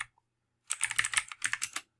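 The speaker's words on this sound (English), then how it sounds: "let's go ahead and type something in here like important selection criteria" Rapid bursts of keystrokes on a computer keyboard as a search phrase is entered, close and clear, with a short silence before the clattering run of typing begins.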